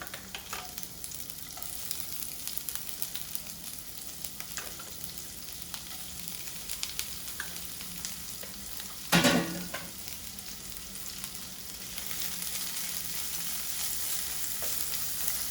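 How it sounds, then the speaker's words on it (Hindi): Chopped vegetables sauté in hot oil for a spring roll filling, giving a steady close sizzle with a brief louder crackling burst partway through. No one speaks. "ऑयल गर्म हो गया है, अब इसमें सारी सब्जियां सौते कर लेंगे।"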